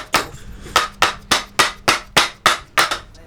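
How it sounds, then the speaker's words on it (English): Nine sharp, evenly spaced hammer blows ring out close and loud at a steady pace of roughly three per second during an e-mountain-bike build, each a crisp metallic impact with a quick decay. "I've been almost breaking my hammer because I've been a bit too violent"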